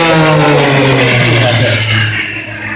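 A carbon fiber MXS aerobatic airplane with a 355-horsepower six-cylinder engine flies at an outdoor airshow, its loud engine drone holding steady and sliding gradually lower in pitch as it passes, then fading slightly at the end.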